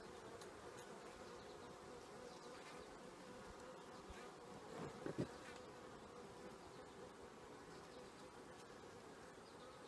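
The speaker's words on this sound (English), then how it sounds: "So I've got bee number 1 flying around me right here near my pocket." A single honey bee from a defensive hive buzzes close around a beekeeper, a faint, wavering drone over quiet background, swelling briefly as it passes nearest mid-way.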